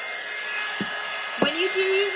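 A hair dryer blows on paint as a steady, close whirring hiss throughout, with a couple of faint knocks and a short tonal squeak near the end.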